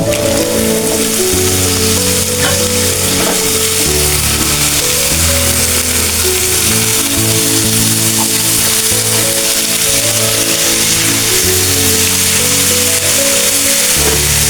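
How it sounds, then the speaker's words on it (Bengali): Pumpkin pieces frying in oil for a Bengali sweet pumpkin bhaji make a loud, steady, close sizzle that continues unbroken throughout, with no talking. "এটা ভালো করে ভাজা ভাজা করে নেব আমরা।"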